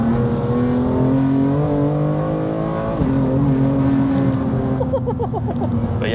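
A 650 BHP BMW M2 Competition with M Performance carbon parts drones steadily, with a sharp downshift blip around the middle followed by loud, sustained engine noise close by.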